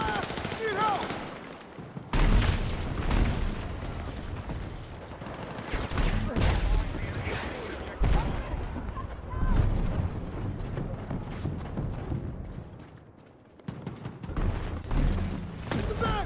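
Video game gunfire, heavy bursts of automatic fire and booming shots in repeated waves, with a voice calling out between them.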